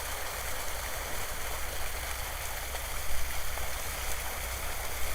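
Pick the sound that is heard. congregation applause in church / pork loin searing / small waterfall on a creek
small waterfall on a creek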